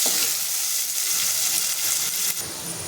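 Garlic and a chopped large onion frying in hot oil give a steady, close, bright sizzle throughout, with a slight shift near the end as the pieces are stirred, and no talk.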